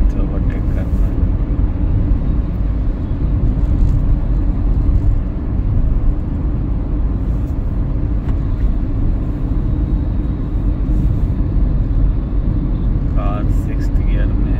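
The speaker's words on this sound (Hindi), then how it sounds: "कार 6th गियर में है, स्पीड ऑलमोस्ट 70 है।" A car cruising on the Delhi–Ghaziabad highway in sixth gear at about 70 gives a loud, constant road and engine rumble with wind noise, steady throughout the whole stretch.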